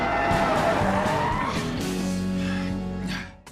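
A loud, sustained car tire screech of the kind used in movie chase scenes, with a rising squeal over a revving engine that holds steady and then cuts off abruptly.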